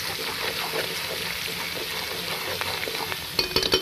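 Garlic-ginger paste and coconut fry steadily in a pan with a continuous close sizzle and light stirring scrapes, growing a little louder with sharper clatters near the end; no one speaks.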